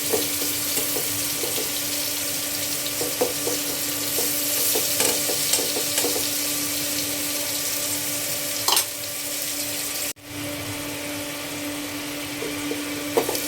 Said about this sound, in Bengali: কাঁকরোল ভাজা শেষ, এখন নামিয়ে নিব।